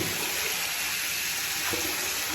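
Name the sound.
tap water running to get fresh water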